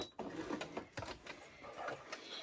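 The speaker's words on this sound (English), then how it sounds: "And a final stitch" A sewing machine putting the final stitches into a homemade roller derby helmet cover makes a faint, quick mechanical whirring with irregular bursts and small clicks, heard quietly and close.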